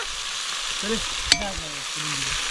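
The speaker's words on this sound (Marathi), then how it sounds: "आता फोडणी होते, फोडणी." Spices sizzle and crackle in hot oil, tempering for a raw jackfruit curry, with a steady hiss broken by a sharp metallic clink midway.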